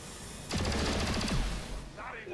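Weapon fire in the video game XCOM 2 arrives as a sudden loud burst of rapid shots lasting over a second, then cuts off into a quieter tail.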